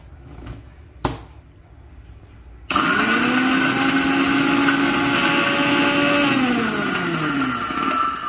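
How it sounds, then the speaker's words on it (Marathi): A mixer grinder whirs loudly and steadily as it blends a spice mixture for sambhar, starting abruptly after a few soft knocks and running on with a slowly falling motor pitch. "पहिल्यांदा नुसतं हे मिश्रण एकदा फिरवून घेऊया, म्हणजे ते जरा बारीक होईल आणि खोबऱ्याबरोबर चांगलं मिळून येईल."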